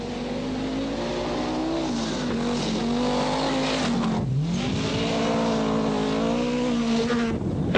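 Toyota Corolla rally car on a stage of the 1983 Scottish Rally, its engine loud and close throughout, revving hard with rising and falling pitch through a quick shift near the middle.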